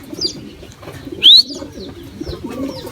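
Young racing pigeons coo in low, soft murmurs close by during a training session, with a brief sharper chirp rising above the steady cooing partway through.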